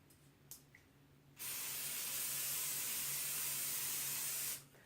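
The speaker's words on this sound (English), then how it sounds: "I'm going to spray the parchment paper." A steady aerosol cooking spray hisses onto parchment paper in a cake pan for about three seconds, close and fairly loud, after a couple of faint clicks and handling noises.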